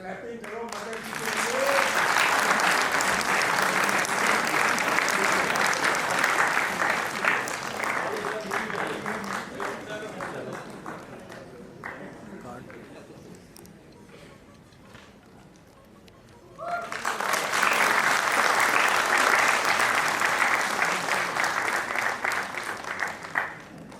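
Audience applause at a national entrepreneurship summit award ceremony, loud and sustained for about fifteen seconds, easing into a quieter lull with a few voices, then surging again into a second strong burst of clapping.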